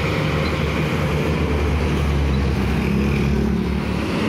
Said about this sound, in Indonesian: Kemudian ini ada bis kota dari Beratang.